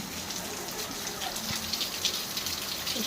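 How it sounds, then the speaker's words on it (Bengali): Heavy rain falls steadily outside a home kitchen, a dense, even hiss of drops that stays constant throughout at moderate loudness. "দেখুন আপনারা কত জোরে বৃষ্টি হচ্ছে"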